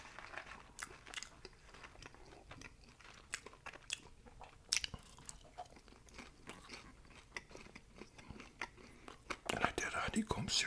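Close-up bites and chewing of a bison burger, soft moist crunches and smacks at an irregular pace, quiet and intimate, with a louder burst of chewing at the end.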